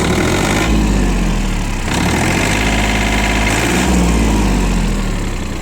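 Small Japanese mini tractor for field and garden work with its engine running steadily just after a cold start with automatic glow plugs, a loud, close, continuous idle with slight rises in pitch as it revs.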